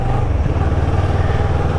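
A CF Moto 650NK motorcycle engine runs as a loud, steady low drone, heard close up with wind rumble, its pitch stepping slightly around a gear change partway through.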